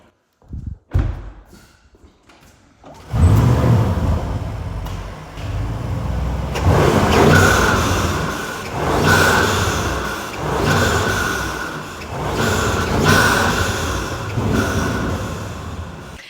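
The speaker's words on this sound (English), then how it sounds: "And now some bonus soundtrack of the twin turbo V8 from the Unitronic intake." Audi RS6 Performance twin-turbo V8 breathing through a Unitronic intake: after a few faint thumps, a loud, close engine roar builds and holds, swelling and easing in repeated revving waves, with no talk.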